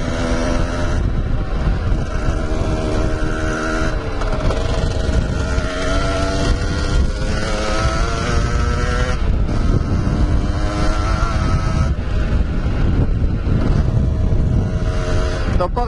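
A Beta 50 RR motorcycle's 50cc engine, just repaired, drones steadily and loud throughout a ride, with shifting harmonic pitches as it revs and changes gear, heavy wind rush over the microphone, and no talking.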